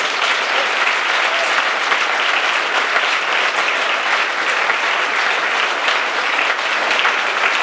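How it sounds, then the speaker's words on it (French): An audience at a Grand Hôtel des Rasses 120th anniversary event claps for the hotel team. The applause is dense and sustained, holds at an even loudness throughout, and no voices stand out. "j'aimerais qu'on applaudisse l'équipe du Grand Hôtel des Races"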